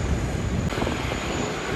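Qantas Boeing 787 airliner at Sydney Airport, a steady broadband engine roar filling the whole stretch at moderate loudness, with no voices.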